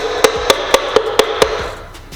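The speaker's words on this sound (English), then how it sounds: "We're gonna take our hammer, kind of lightly tap it" A hammer lightly taps a piston into an engine cylinder six times, sharp metallic taps at an even, quick rhythm, close and fairly loud, then the ringing fades away.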